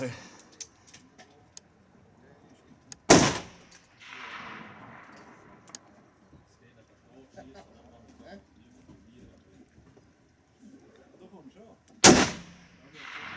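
Two sharp, loud rifle shots ring out about nine seconds apart, each with a short echoing tail, while quiet handling noises and murmuring voices fill the gaps.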